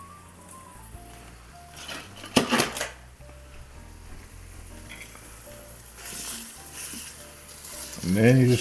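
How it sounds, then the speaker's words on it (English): Italian sausage dropped into hot oil in an InstantPot, a sharp burst of sizzling followed by quieter frying and clinks of the pot, with someone talking over it. "Then we'll add sausage in."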